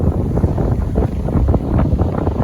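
Strong storm wind in South Korea buffets the microphone in loud, uneven gusts and low rumbling roars that continue throughout with no voices.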